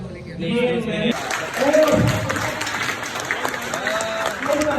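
A crowd claps at a school farewell party, the applause mixed with talking voices and some sliding tonal sounds, fairly loud and continuous throughout.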